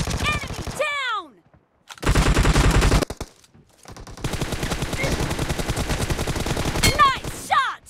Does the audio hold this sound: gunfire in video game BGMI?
yes